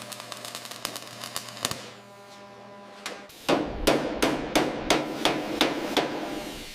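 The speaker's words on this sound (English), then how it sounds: "Reshaping the metal. Listen to the rhythm of the hammer." A hammer strikes sheet metal while reshaping panels on a Porsche 911 GT3 restoration, sharp ringing blows landing in bursts, first lighter and quicker, then heavier, evenly spaced hits close to the microphone.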